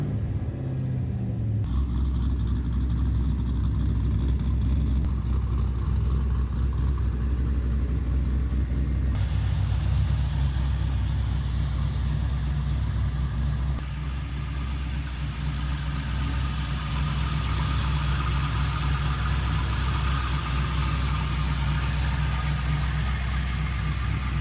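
A modified, clearly non-stock Nissan 300ZX engine idles with a deep, loud, steady rumble, with the revs shifting at a few points and no talk over it.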